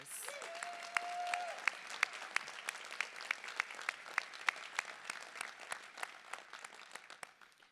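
Scattered applause at a community action partnership meeting, distinct individual claps from a modest crowd, fairly distant and soft, with a brief tone near the start.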